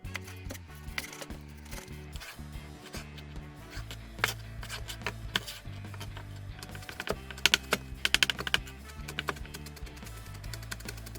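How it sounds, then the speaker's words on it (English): Knife chopping vegetables such as onion and chili pepper on a cutting board for oyster pancake batter, giving a run of close, crisp, irregular taps that grow denser and louder toward the end, with no talking. "Let's cut all the vegetables."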